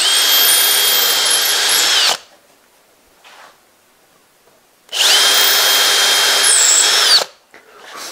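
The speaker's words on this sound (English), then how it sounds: "And you drill through here." A power drill bores through the wooden fence of a table saw crosscut sled in two loud, steady bursts of high whining, separated by a quiet pause with a faint brief rattle.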